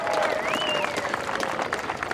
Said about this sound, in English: Give another round of applause to welcome us so well.